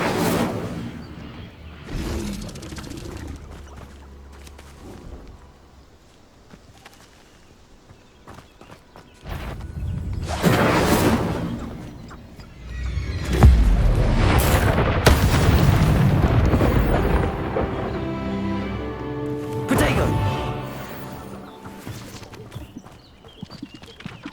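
The Incendio fire spell erupts in a fantasy video game, a rushing whoosh and burst of flame that swells into a loud, rumbling roar midway, mixed with hoof-like clopping and scattered booms, then fades and flares again.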